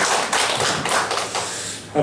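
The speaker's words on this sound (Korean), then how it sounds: "박수." Congregation clapping in welcome during a Korean Sunday church service, a dense burst of many hands applauding at close range for about two seconds with some voices mixed in.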